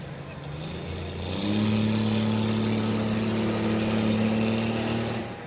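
A rough-truck racing engine at a Tuscarawas County event idles, then roars up to a loud sustained drone at the start, cutting back near the end, with an announcer speaking over it.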